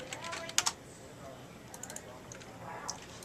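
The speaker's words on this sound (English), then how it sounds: "Let's type in post-survey." Keys clatter on a computer keyboard in a quiet room, a quick cluster of loud strokes followed by scattered lighter taps while someone enters text in an Excel spreadsheet.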